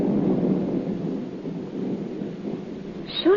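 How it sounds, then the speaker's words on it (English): Thunder from a passing storm rolls in a long, low, continuous rumble at moderate distance, steady throughout with a faint sharper sound at the very end. "That's just the old storm having a last blow."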